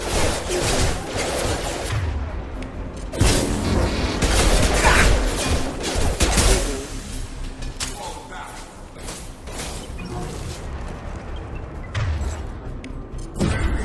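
Sustained gunfire in the video game Mass Effect 2, loud dense bursts and booms rolling continuously with mechanical clatter and whooshes, a voice speaking over parts of the battle.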